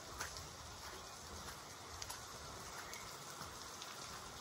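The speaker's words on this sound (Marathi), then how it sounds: "पण पाऊस चालू आहे बाहेर" Steady rain falls outside, a soft continuous hiss with scattered faint drop ticks, heard from a distance and quietly throughout.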